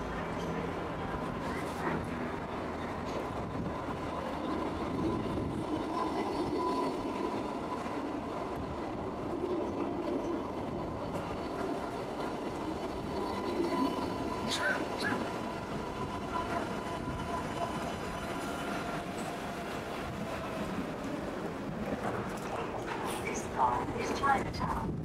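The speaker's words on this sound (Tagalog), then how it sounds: "Ayan na yung light rail." A Sydney light rail tram on the L3 line pulls in toward Circular Quay, a steady low rolling rumble with faint clacks and a squeal near the end, under people talking nearby and a dog barking.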